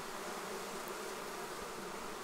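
Drone honeybees buzzing around a hive during a swarm install, a dense, even hum of many wings filling the air with no voices.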